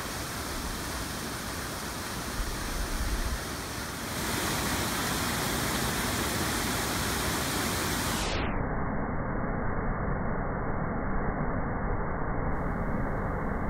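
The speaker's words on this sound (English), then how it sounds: "The water here is very fast and the bed very rocky." Steady, loud rushing river water over a very rocky bed in Bells Canyon, with a broad roar, continuous throughout and close by, with no voices.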